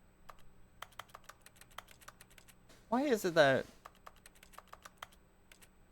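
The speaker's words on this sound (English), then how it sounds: "when I click or press E, it has typing noises?" Rapid keyboard-like typing clicks from interaction sounds in The Stanley Parable Ultra Deluxe, a steady patter of short taps running throughout, briefly under a man's spoken question midway.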